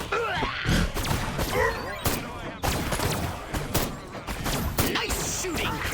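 Gunfire in the video game Destroy All Humans during a battle at the White House against Mecha Prez, loud repeated bursts of shots and blasts over a dense, busy game soundscape.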